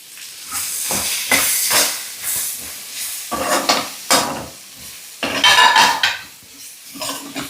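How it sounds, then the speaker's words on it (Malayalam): Green chillies, garlic and ginger hit hot oil in a pan for a potato rice lunch, giving a loud, steady sizzle broken by repeated scraping stirs and pan clatter, with no talking. "ഇത് ഒരു 3-4 പച്ചമുളക് ഇടുന്നു. വീട്ടിലൂടെ കുറച്ച് വെളുത്തുള്ളി, പിന്നെ ഇത്തിരി ഇഞ്ചി."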